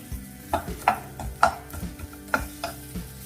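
Chopped onion going into hot oil in a pan, a series of short, close stirring and scraping knocks with brief sizzles, irregular and fairly quiet, with no talking.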